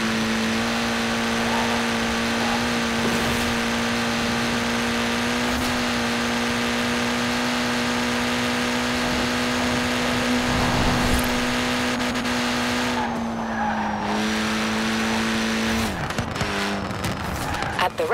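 A Mini Cooper S engine hums steadily and loudly while driving in Forza Horizon 4, holding an even drone with small pitch shifts and a brief change near the end.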